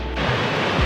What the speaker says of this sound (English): Another beautiful creek here